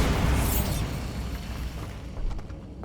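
A Bombarda blasting spell explodes in Hogwarts Legacy, a single deep boom with a rumbling burst at the start that decays over a couple of seconds, followed by faint debris crackles, moderately quiet and with no talking.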